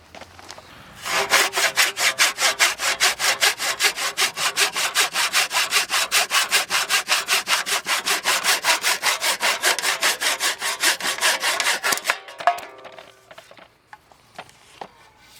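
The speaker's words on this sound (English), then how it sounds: "We need to slip a handsaw in there and finish that last cut" A handsaw cuts through wood for a raised garden box bench, its strokes a rapid, steady back-and-forth rasp repeating for about eleven seconds, close and loud, before stopping with a few light knocks.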